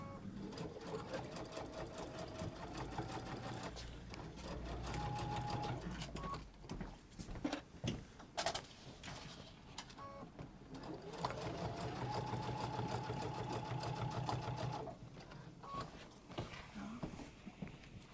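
A sewing machine stitches a Morgan messenger bag in several close, steady runs, broken by short pauses where the fabric is adjusted.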